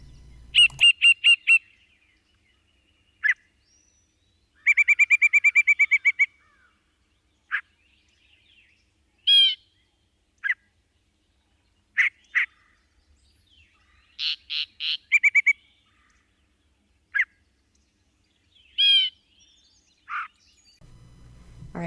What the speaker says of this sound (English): This is the Yellowbreasted Chat.